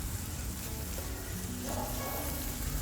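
Carrot, peas and sweet corn hit a hot paella pan for a Spanish seafood paella, giving a steady close sizzle and frying crackle that swells slightly toward the end, with faint stirring and no voices.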